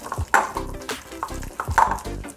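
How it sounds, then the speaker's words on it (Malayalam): Chicken fry batter seasoned with salt and jaggery water being mixed by hand in a bowl, giving close, wet squelching and stirring bursts in an uneven rhythm, with no talking. "നന്നായിട്ട് കൈകൊണ്ട് മിക്സ് ചെയ്തു."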